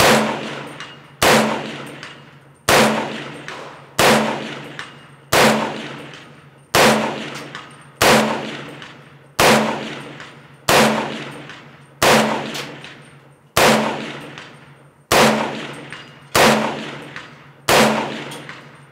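Doublestar ARC carbine in 300 Blackout fires steady, evenly spaced shots at steel targets, about a dozen sharp reports each followed by a ringing decay, loud and regular.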